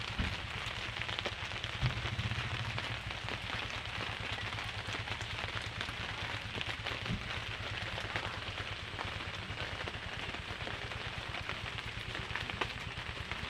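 Steady monsoon rain patters continuously on surfaces, a dense even hiss of drops with no voices, moderately close and unchanging throughout.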